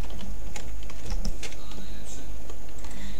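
A password typed on a computer keyboard, a quick run of close, crisp key clicks at an irregular pace, with a voice speaking over it.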